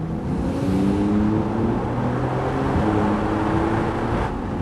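A Porsche 911 Targa 4S Heritage Edition idles and creeps along a road as it turns around, a steady low engine hum heard from inside the car, moderately loud with no talk.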